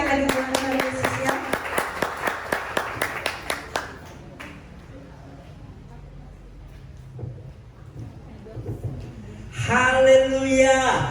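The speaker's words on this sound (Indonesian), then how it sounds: "tepuk tangan sekali lagi buat Tuhan Yesus ya" A worship night congregation claps hands in a steady rhythmic beat for about four seconds, then the claps stop, leaving quiet room tone before voices and music rise near the end.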